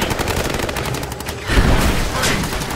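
Gunfire in the video game Rise of the Tomb Raider: a dense, continuous spray of rapid shots that swells louder and heavier about halfway through, with no talking over it.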